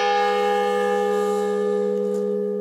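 A large church bell rings with a long, sustained metallic tone and rich overtones, loud and close, slowly decaying without any other sound.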